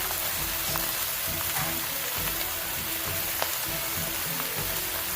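Ginger soy sauce hits a pan of frying mixed vegetables, setting off a loud, dense sizzle that crackles steadily throughout, with faint pops and light stirring taps scattered through it.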